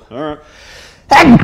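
A man sneezes once, loud and close, right after another voice speaks briefly in a quiet room.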